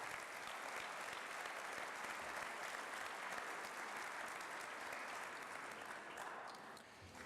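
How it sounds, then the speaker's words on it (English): A large audience applauds sports teams, including women's basketball, wrestling and bowling, with a dense, steady wash of clapping that holds evenly throughout and only eases slightly at the very end. "would you offer them your support and applause,"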